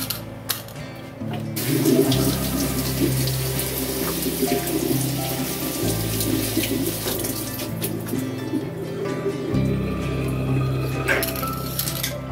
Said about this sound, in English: so I had to stop and rinse off the rest of the produce